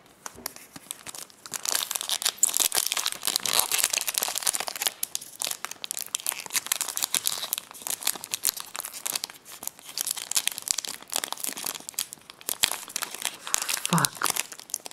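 A 2008 Yu-Gi-Oh duelist card pack in blister packaging is crinkled and torn open up close, with dense irregular crackling and tearing bursts throughout.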